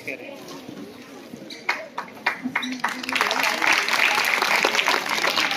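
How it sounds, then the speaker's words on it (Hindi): Audience applause welcoming guests at a school event, scattered claps that swell into steady clapping, heard beneath someone speaking. "शामीन 2000 तालियों से इस्तेकबाल करें"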